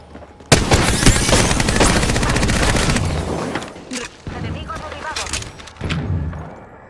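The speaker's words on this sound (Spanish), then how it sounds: "Estoy recibiendo disparos." Rapid bursts of Apex Legends gunfire rattle loudly at first, then come in shorter volleys, with voices talking over the shooting.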